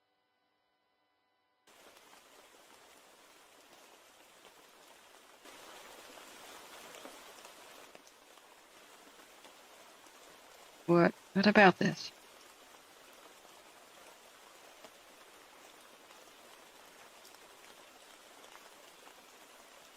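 Steady rain hiss falls continuously from a couple of seconds in, swelling slightly for a stretch, with a brief burst of louder handling or knocking near the middle; a voice speaks briefly over it.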